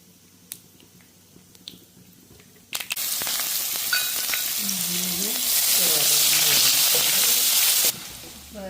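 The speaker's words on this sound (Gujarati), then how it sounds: "હવે એની અંદર હું રાઈ નાખું છું. રાઈને થોડીક વાર આવવા દઈએ." Mustard seeds hit hot oil in a pan while vadi shaak is prepared, bursting into a loud continuous sizzle and popping after a couple of quiet clicks, close up, steady for several seconds before easing slightly.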